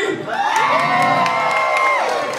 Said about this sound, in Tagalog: Pumalakpak na may sigawan.